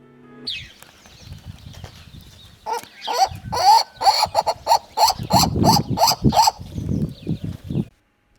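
Turacos give loud, repetitive barking cries in quick rhythmic bursts, several birds calling together close by against a quiet background.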